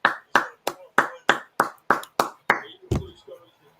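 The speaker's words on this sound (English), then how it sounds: "Round of applause to" Clapping during a livestream talk show about an NFL Thursday Night Football game, about ten sharp, evenly spaced hand claps from one person, close and clear, ending with a soft bump.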